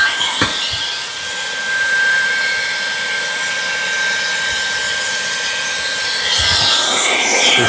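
An ElecKeys 650W cordless vacuum runs steadily while cleaning debris off a mat, a continuous whirring hum with a faint high whine, swelling slightly louder toward the end with no talking.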